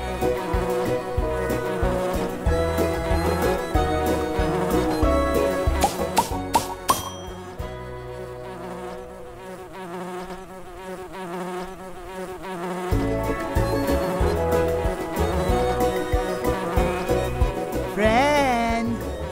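Cartoon bees buzz in flight, a steady insect drone woven through bright background music, with a voice speaking over parts of it.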